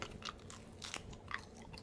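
Crisp, irregular crunching bites of a dehydrated carnivore crack snack, close to the mouth, with several sharp crackling chews over a couple of seconds and no talk.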